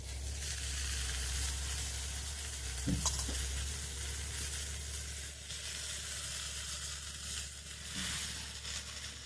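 Finely chopped mustard greens sizzle and fry steadily in a hot pan, a constant close hiss with a few sharp crackles and stirring scrapes near the start and again later.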